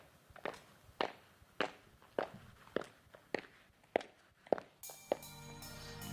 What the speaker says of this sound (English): Which means I should be hearing footsteps soon.